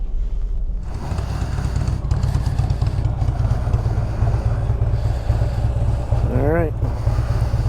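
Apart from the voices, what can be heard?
2016 Harley-Davidson Road Glide Special motorcycle engine running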